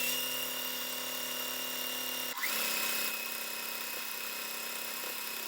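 A machine stitches quilt block fabric in a continuous high whirring run. A brief knock or clunk is heard midway, and then the steady sewing drone resumes without any talk.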